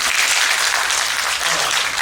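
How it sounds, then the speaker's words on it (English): A cross-country team banquet crowd claps together for a coach, a loud, dense burst of applause that stays steady for about two seconds. "let's give her a clap on 2, 1, 2"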